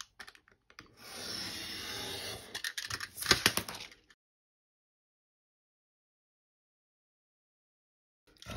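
Excess craft paper is torn and scraped away while making a decorative paper advent calendar, a close, dry rasping rip lasting a few seconds with sharper crackles near its end, then silence.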